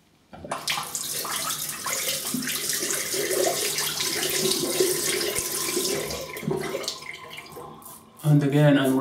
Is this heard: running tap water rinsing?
yes